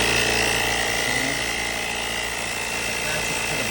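A Joltekon 5000A jump starter's built-in 150 PSI air compressor inflating a bicycle tyre, a loud steady mechanical whirring hum running throughout, close up with a voice talking over it.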